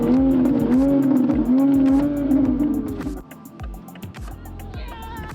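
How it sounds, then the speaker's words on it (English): Tires squealing in a sustained, loud skid on a car, with the tone wavering for about three seconds before dropping away into engine and road noise. "Please hear the skid here."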